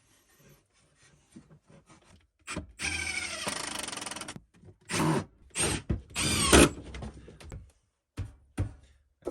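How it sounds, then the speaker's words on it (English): Holes drilled into wood and screws driven to fix drawer runners in place, heard as several bursts of whirring and grinding with short scraping and clicking sounds between them, close by and with no talking. "drill some holes in, and then we'll screw them in place."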